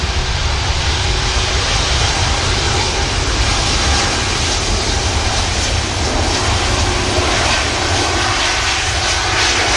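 An Embraer E2 jet operating for Swiss takes off from Manchester Airport, a loud, sustained engine roar with broadband rushing noise filling the whole span at close range, with no voices.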